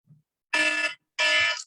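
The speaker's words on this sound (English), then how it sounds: "That's my timer." A timer alarm goes off in two harsh, loud electronic buzzes, each lasting about half a second, heard alone in an otherwise quiet room.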